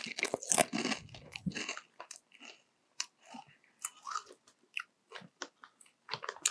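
Avocado & Cheese Doritos, a flavor exclusive to Japan, bitten and crunched close up: a loud first bite and burst of crunching, then a steady run of sharp, irregular chewing crunches with short gaps.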